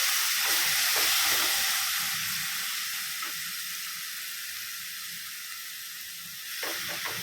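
Ground tomato paste poured into a hot pan for Madurai ghee sukka sizzles loudly with a bright steady hiss, strongest at the start, easing to a softer even fizz, then swelling briefly near the end.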